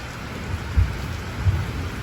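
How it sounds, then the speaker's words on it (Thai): Low rumbling thunder rolls under steady rain, with a couple of deeper thumps standing out against the constant hiss of falling water. "เสียงฟ้าร้องน่ากลัวยแล้วครับ"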